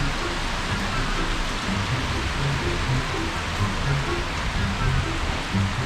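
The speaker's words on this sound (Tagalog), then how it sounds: "Naggagraniso na po." Hail falls in a dense, steady roar of countless small impacts, loud and continuous with no pauses, a cold downpour heard up close.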